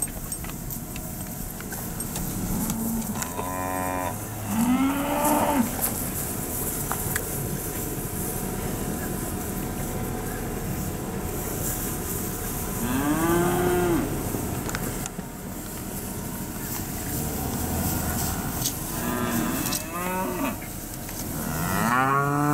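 Cattle being hand fed on irrigated Bermuda grass let out several deep moos spaced across the stretch, some close and loud, over a low outdoor rumble.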